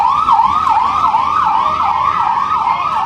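An ambulance siren wails loud and close on the road, its pitch sweeping up and down in a steady repeating cycle over a faint traffic hum.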